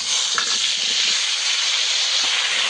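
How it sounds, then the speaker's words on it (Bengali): Cut green mango pieces hit hot oil with tempered five-spice and dried chilli for a mango sour dish, giving a loud, steady, continuous sizzle that fills the clip with no break. "এবারে কেটে রাখা আম দিয়ে দেব।"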